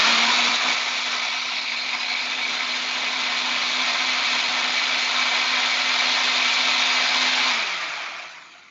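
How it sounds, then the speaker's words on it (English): A blender making sweet potato protein pancake batter whirs loudly and steadily on medium speed for several seconds, then winds down as it is switched off. "Blender on, turn it on medium."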